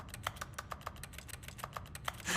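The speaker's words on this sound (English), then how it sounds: "When you press the use key, I make typing noises." Rapid, uneven keyboard typing from pressing the use key in The Stanley Parable, a run of close, crisp key clicks with a louder clack at the end and no talk.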